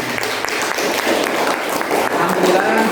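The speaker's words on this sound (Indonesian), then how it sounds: "Baik, tepuk tangan untuk semuanya." Students in a classroom clapping after finishing a group discussion, a brief burst of applause that sounds mixed with a teacher's voice and room chatter.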